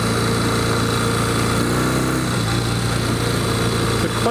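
A 1964 Royal Enfield Interceptor 750 with a slipping clutch runs continuously on a road ride. Its steady, buzzing engine drone is loud and close, with only slight shifts in pitch.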